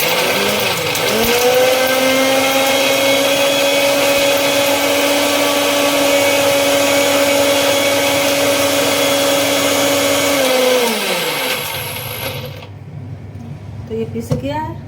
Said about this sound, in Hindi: तो ये मिक्सर से हम पीस ले रहे